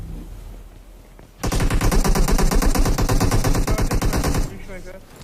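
Sustained automatic gunfire in a video game, a loud rapid burst of machine-gun shots lasting about three seconds, close and dominant, with faint game ambience before and after.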